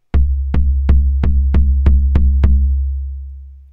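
A Reason Kong drum machine kick drum with its decay set high repeats eight times in a steady rhythm, each booming hit ringing into the next before a long low tail fades out.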